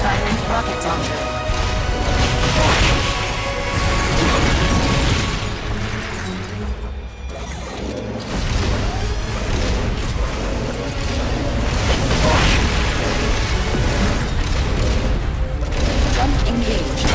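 A rocket launcher fires in the Metal Gear Solid: Peace Walker game, loud sustained booms and crashing blasts with mechanical clatter, briefly easing midway before the barrage resumes; a voice speaks at times.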